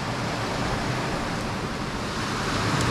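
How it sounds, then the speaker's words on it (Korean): Strong sea waves break in heavy rain on the coast of Cebu, making a dense, loud, unbroken roar of surf and downpour with no distinct individual crashes and no voices. "이렇게 파도가 세고 비가 많이 오는데"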